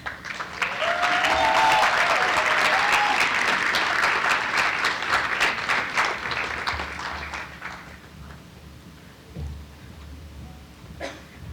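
A big audience applauds at a Women's History Month celebration at Rutgers Newark, loud sustained clapping with a few whistles that fades after about eight seconds into scattered claps and room noise.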